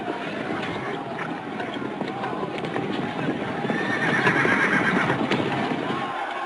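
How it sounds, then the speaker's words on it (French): Mounted guards' horses charging to clear a square during a 1934 riot in Paris, a dense rumble of hooves and crowd tumult with a neigh, with voices mixed in. "la garde à cheval charge pour tenter de dégager la place"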